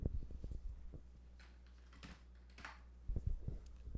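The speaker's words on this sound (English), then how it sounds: "I need to just type in the name" Fingers type a new folder name on a computer keyboard, a quick patter of close key clicks in short bursts with a quieter pause in the middle.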